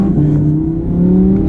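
Audi R8 engine revving in manual sport mode inside the cabin, a steady loud drone with pitch rising and falling across gear changes, close and continuous.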